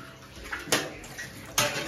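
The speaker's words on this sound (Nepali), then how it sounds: "अब हाम्रो चाहिँ यहाँ भाँडा मस्काउने कामहरू हुँदैछ।" Dishes being scrubbed and washed by hand under running water at a family home, with two sharp clatters of dishware standing out over a low, steady splash.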